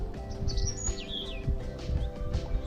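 Birds sing and chirp outdoors in the Norwegian countryside, with short clear warbling phrases of moderate loudness over a steady low background hum.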